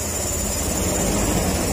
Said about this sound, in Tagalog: Ito yung maandar siya.